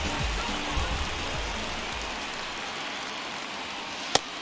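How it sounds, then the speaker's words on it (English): Steady rain falls throughout a baseball game in the video game MLB The Show 23, a dense even hiss with low rumbling early on and one sharp brief click near the end, no voices. "This rain is not letting up."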